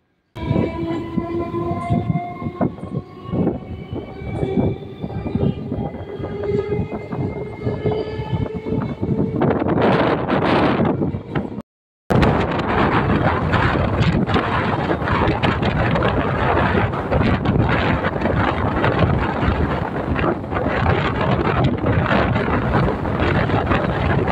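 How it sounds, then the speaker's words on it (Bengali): A train pulls out of Harowa station with a steady horn blast early on, then loud, continuous rumbling and rattling of carriages gathering speed, with wind buffeting the microphone throughout. "ট্রেন এখন হারোয়া স্টেশন ছেড়ে বেরিয়ে যাচ্ছে"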